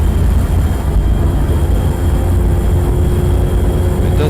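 A Ford Aeromax truck engine in the American Truck Simulator game drones with a loud, steady low rumble throughout, with no voices over it.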